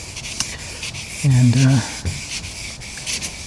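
Wet sanding of car door paint with a sanding block, a steady soft rubbing rasp with a brief voice partway through.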